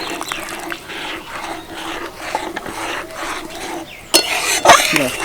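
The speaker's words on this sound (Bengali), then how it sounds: "এবার এই গ্রেভির মধ্যে কর্নফ্লাওয়ার গোলা জলটা দিয়ে দেবো" A cornflour slurry is poured into a pan of gravy for a chilli jackfruit dish and stirred in, giving steady scraping and rubbing strokes, with sharper clinks of a utensil against the pan toward the end.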